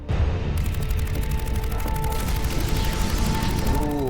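Loud, rapid bursts of gunfire from the video game Mass Effect 3 during the assault on Omega, sustained and dense with mechanical clatter throughout.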